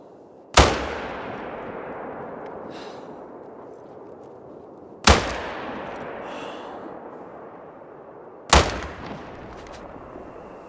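A video game gun fires three sharp, loud shots a few seconds apart. Each shot rings out with a long, echoing tail that fades slowly, and no voices are heard.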